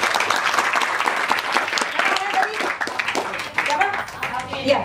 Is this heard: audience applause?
yes